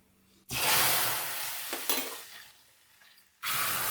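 A loud burst of sizzling as hot oil tempering with spluttered chillies is poured into rasam, fading to a softer crackle before another sharp sizzle rises at the end.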